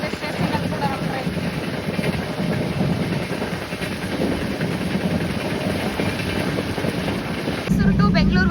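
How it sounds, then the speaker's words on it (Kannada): The Mysore–Kacheguda superfast express runs at about 110 km/h through a station without stopping, giving a steady, loud rumble and rattle of the moving train heard from inside, with a voice talking over it. "ನೋಡಿ ಎಷ್ಟು ಸ್ಪೀಡಲ್ಲಿ ಹೋಗ್ತಾ ಇದೆ ಸ್ಟೇಷನಲ್ಲಿ ಕೂಡ ನಮ್ಮ ಟ್ರೈನ್"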